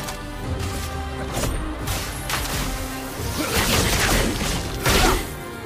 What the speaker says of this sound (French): Une pluie de flammes. Trop stylé cette attaque.